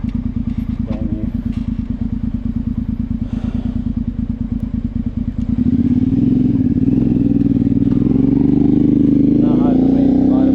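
A motorbike engine idles with a steady rapid chug, then revs up into a louder, rising drone as the rider pulls away, close and continuous throughout.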